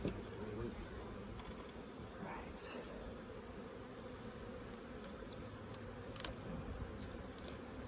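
Honeybees buzz around opened hives tipped on their sides during a fall apiary inspection, a faint, continuous hum with occasional closer passes, and a voice is briefly heard.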